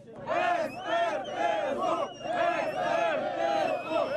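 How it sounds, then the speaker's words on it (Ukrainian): Enraged people surround a traffic police inspectors' car, yelling in loud chanting waves of massed voices that rise and fall several times without pause. "Розлючені люди оточили автомобіль інспекторів та закидали його яйцями"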